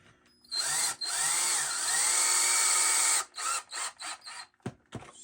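Power drill driving a screw into wood while building a 2x4 bar table: a close, loud whirring run of a few seconds, then several short bursts as the screw is snugged down without over-tightening.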